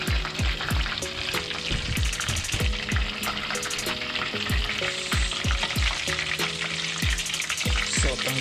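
Shrimp tempura deep-frying in hot oil: a busy, bubbling crackle that carries on throughout, with repeated sharp clinks and taps from a utensil in the pan and no voices.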